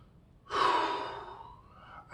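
A single loud, close breath, a sharp gasping inhale that eases into a long fading exhale, heard alone with no talking.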